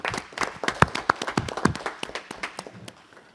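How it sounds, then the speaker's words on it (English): A short burst of scattered applause from a small group at a council meeting, sharp uneven claps that thin out and fade after a few seconds. "So I think they all deserve a round of applause for their great work"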